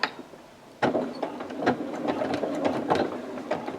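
A sewing machine back-stitches at the start of a seam on a beginner's quilt, giving short bursts of mechanical stitching that start and stop with small clicks, close and moderately loud.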